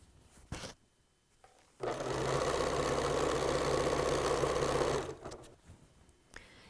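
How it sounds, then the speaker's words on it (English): A sewing machine stitches binding onto a T-shirt quilt in one steady, loud run of about three seconds, with quieter handling noises before and after. "As I sew, I'm letting the machine pull the fabric."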